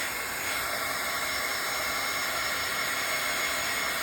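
A hair dryer blows a steady, even whoosh up close, drying wet stamp ink on a journal page, with no one talking.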